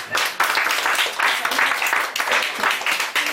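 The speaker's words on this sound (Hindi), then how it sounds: "एक जोरदार ताली बजाओ इनके लिए" Loud, hearty applause from a boot camp audience for a speaker who has just shared a personal story, sustained clapping with surges throughout.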